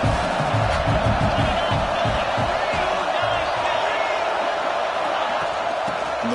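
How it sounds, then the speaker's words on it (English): Stadium crowd roar in the NCAA 26 college football video game during a playoff matchup, Ohio State versus Georgia, a dense, constant wash of cheering and noise rising to back the defense, loud and unbroken throughout. "Here comes the crowd noise trying to help this defense out."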